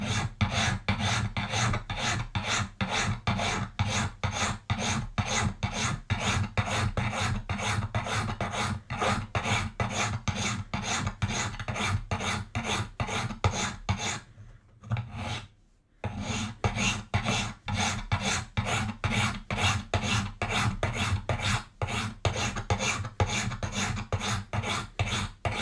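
A Japanese graver being filed into a round gouge with a hand file, fast steady rasping strokes close up, continuous and even apart from a brief pause midway.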